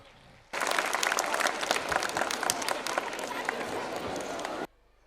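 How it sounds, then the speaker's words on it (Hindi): Loud applause from an audience welcoming a guest onto the stage at a school annual function, beginning abruptly and holding as dense, steady clapping for about four seconds before cutting off. "जोरदार तालियों के साथ हमारे अतिथि महोदय का स्वागत।"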